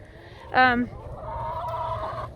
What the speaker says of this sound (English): Gotta let those roosters out, let the chickens out